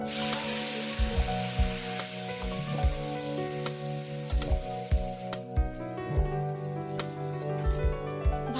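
Hilsa fish sautéed with water and green chillies sizzles steadily in the pan, broken by repeated rhythmic scrapes of stirring, close and continuous with no talking.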